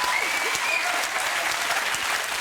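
Studio audience at The Graham Norton Show breaks into steady applause. A dense, even wash of clapping holds at constant loudness the whole time.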